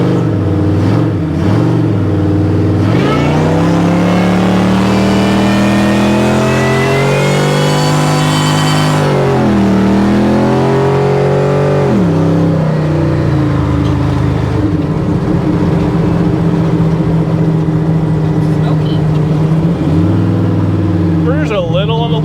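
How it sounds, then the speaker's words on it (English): A supercharged 1955 Chevrolet Nomad engine revs hard and holds high while spinning its tires, with a sustained roaring whine and rising and falling pitch, loud and close throughout. "it's definitely blazing the tires there"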